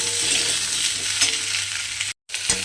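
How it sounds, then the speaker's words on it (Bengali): Long-cut potato strips fry in a pan until lightly reddened, producing a loud, steady hiss with a few stirring scrapes and a brief cutout of near-silence before the sizzle resumes. "দিয়ে আলুটাকেও কিন্তু আমাকে একটু হালকা লাল করে ভেজে নিতে হবে"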